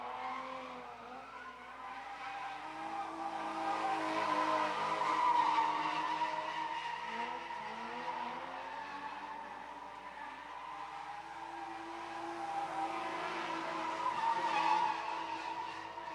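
BMW cars drifting at a drift pit: a sustained, steady wash of tire squeal and engine roar heard from a distance, rising and falling gently over several seconds with no talking.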